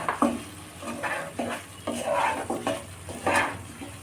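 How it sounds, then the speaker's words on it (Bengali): Prawns are stirred in a frying pan of chilli prawn masala, the spatula scraping in regular strokes over a low sizzle, close and moderately loud, with no one speaking. "একটু সময় কষিয়ে নিয়ে এবার আমি এতে প্রনগুলো অ্যাড করে দিলাম।"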